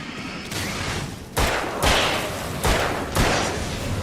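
Four loud, sharp gunshots from a firearm in Alan Wake, the Xbox 360 action game, fired at uneven intervals about half a second apart over a low, rumbling ambient backdrop.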